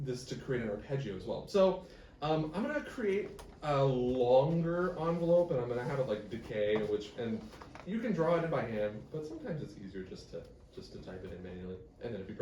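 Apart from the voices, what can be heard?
None of the usual background noises is heard.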